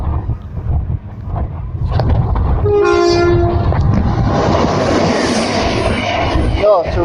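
A Cross Country passenger train passes through Northallerton station on a windy day. A loud rumble builds, a horn blasts for about a second, and then a steady rushing roar carries on as the train goes by.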